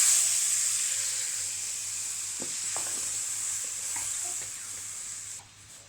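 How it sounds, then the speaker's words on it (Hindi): Milk heating in a pan for white sauce pasta gives off a steady bubbling hiss with small pops and crackles, fairly quiet and continuous before easing off near the end. "तो ये मिल्क को थोड़ा थोड़ा बॉईल आ रहा है।"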